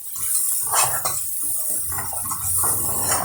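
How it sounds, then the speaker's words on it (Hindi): Spice masala being stirred and fried in a pot, with a spoon scraping and clinking against the metal in an irregular rhythm over a soft, close sizzle, with no voices. "अब इसको तकरीबन 30 सेकंड्स तक इसमें इस तरह बुनाई करूंगी, ताकि मसाला जो है अच्छी तरह से भुन जाए"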